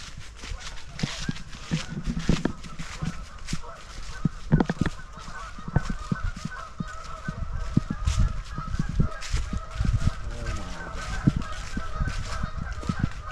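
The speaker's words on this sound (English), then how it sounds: "This is a waterfowl resting refuge." Geese and other waterfowl honk repeatedly at a lake resting refuge in Shabbona Lake State Recreation Area, Illinois, their calls scattered through steady background noise while people talk close by.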